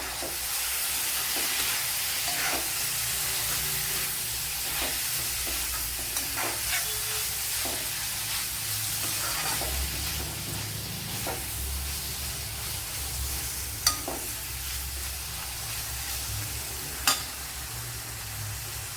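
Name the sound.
chopped tomato frying and being stirred in a pan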